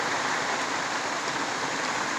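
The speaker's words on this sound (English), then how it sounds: "The fucking rain, I can't even sit where I want to sit. It just keeps coming." Heavy rain pours steadily outside a small survivor shack, a dense, even hiss that stays loud and close without a break.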